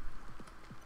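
Horse hooves clip-clop in a steady rhythm of soft, evenly spaced thuds in Star Stable Online, a horse-riding game, heard alone and fairly quiet.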